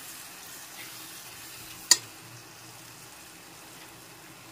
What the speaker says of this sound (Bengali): এখন সবকিছু একটু ভালোভাবে নেড়েচেড়ে মিশিয়ে নিলাম।